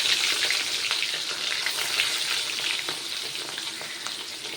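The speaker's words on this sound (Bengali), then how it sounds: "মাছের তেল এদিকে গরম হয়ে গেছে মাছ ভাজার জন্য। এবার আমি এক একটা করে মাছ দিয়ে দেবো।" Pieces of katla fish frying in hot oil for a fish curry, a steady loud crackling sizzle close by with small pops throughout, no voices.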